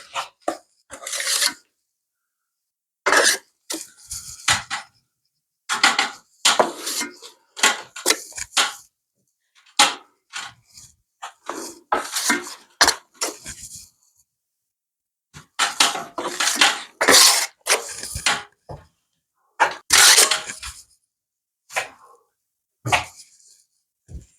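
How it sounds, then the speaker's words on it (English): A hawk and trowel load and spread joint compound on a water-damaged ceiling, giving repeated short, close scraping strokes in an irregular rhythm with brief pauses between passes. No talking. "So for this, I'm going to be using my Hawken trowel. I'm just going to load on mud nice and wide."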